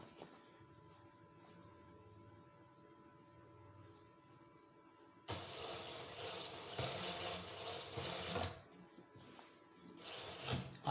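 A tailoring sewing machine stitches in reverse on an ajrak waistcoat. Two bursts of rapid, close buzzing rise out of a quiet room, one of about three seconds and a shorter one at the end.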